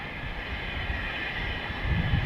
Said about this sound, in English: I think someone's taxiing out. Maybe a citation, maybe? It's very small.